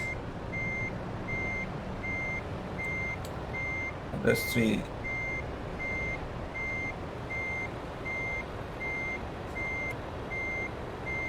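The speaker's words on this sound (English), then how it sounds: "I'm going to reverse the truck." Reversing beeps from a truck in Euro Truck Simulator 2 pulse at a steady, even rhythm throughout over a low engine hum, with a brief air-brake hiss and a short bit of talk midway.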